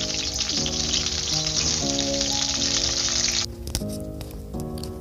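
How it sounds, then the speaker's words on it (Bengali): Halved new potatoes frying in hot mustard oil, a loud steady sizzle that drops away partway through, leaving a quieter crackle, with music playing throughout and no talking. "এটা একটু ভালোভাবে ফ্রাই করে নেব।"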